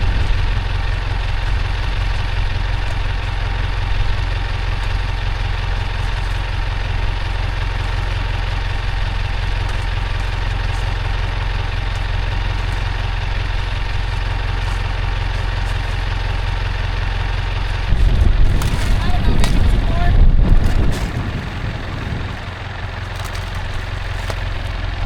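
A Kubota tractor engine idles near a cabbage harvest, a loud low steady rumble throughout, joined by a brief burst of clatter or revving toward the end.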